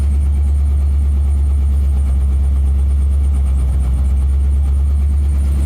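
A 1987 Corvette engine idles steadily while warming up, a close, loud, even low rumble that holds without a break.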